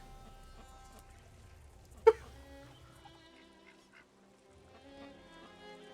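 Ducks honking and quacking on a live camera feed, with one sharp, loud call standing out near the middle against a quieter bed of lower duck chatter and background noise.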